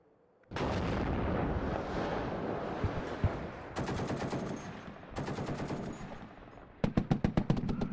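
Mortar and artillery barrages in the WARNO strategy game, starting abruptly and continuing as loud, dense rolling blasts, with rapid rhythmic volleys of sharp repeated shots in several bursts toward the end.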